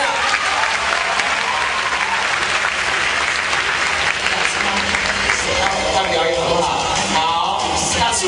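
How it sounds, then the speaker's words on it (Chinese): An audience applauds during a taekwondo demonstration at a university freshmen's night show, loud sustained clapping that swells and continues for several seconds, with voices mixed in. "这时候要有一点掌声啊！"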